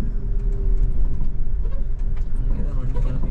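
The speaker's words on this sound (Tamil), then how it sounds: "ஏதோ வண்டி கிளம்பி போகுது." A Scania coach on the Kollam to Bangalore route rumbles with low engine drone and road noise, a nearby vehicle pulling away beneath faint background chatter.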